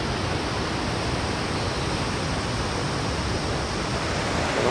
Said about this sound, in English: Okay, these are the waterfalls,